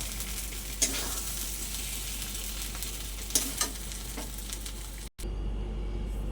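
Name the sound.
stirring pointed gourd and shrimp bharta in mustard oil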